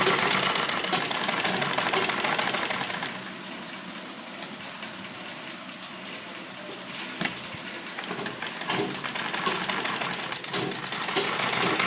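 A sewing machine runs a long basting stitch across a frock bodice, its steady whirring hum near and continuous, easing quieter midway before picking back up, with no voices.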